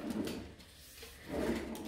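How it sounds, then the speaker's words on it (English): Nail salon drawer sliding shut after a gel brush is put away, a short muffled scrape and soft knock heard close and quiet. "put it to the drawer,"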